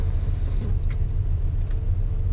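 A VW Jetta 2.5 engine runs with a misfire, a steady low idle rumble with uneven pulsing, heard close and alone without talk.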